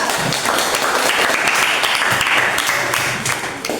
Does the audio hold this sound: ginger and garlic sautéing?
no